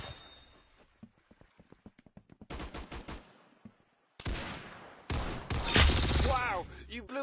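Video game gunfire crackles in rapid bursts, first a run of quick single shots, then dense loud volleys broken by short pauses, with a voice talking between them.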